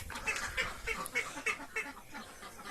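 Poultry calling nearby, a run of repeated nasal honks and quacks in a loose rhythm, fairly close and moderately loud.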